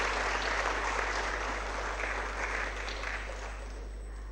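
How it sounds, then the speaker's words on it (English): An audience at a medical college orientation day applauds as a professor is welcomed onto the dais, with dense, sustained clapping filling the hall and slowly tapering off. "Let's all welcome Sir with a round of applause."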